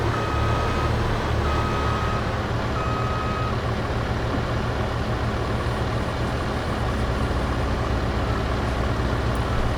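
Reversing beeps from a farm vehicle backing up to unload into a trailer in Farming Simulator 22, repeating steadily over a loud, continuous diesel engine rumble.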